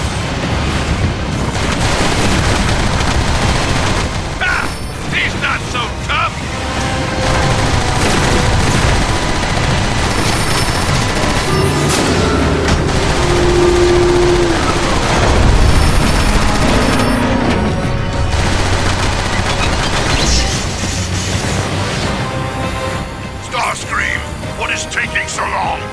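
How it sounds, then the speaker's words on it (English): Gunfire and booming weapon blasts rage through a Decepticon campaign battle in Transformers: War for Cybertron, with dense continuous shooting and explosions layered under shouted voices and game dialogue throughout. "Fire on those guns!"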